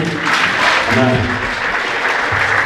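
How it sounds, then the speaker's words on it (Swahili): Loud applause from an audience honouring the head table at a secondary school graduation and certificate ceremony, steady clapping filling the whole stretch. "Mnaweza kuwapigia makofi meza kuu."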